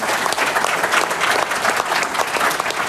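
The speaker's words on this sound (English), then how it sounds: "Let's hear a big round of applause" An audience gives a big round of applause at a training event, dense, steady clapping from many hands that fills the whole stretch without a break.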